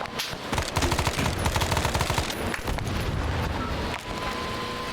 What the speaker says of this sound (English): 3, 2, 1, fire. One shot shooting.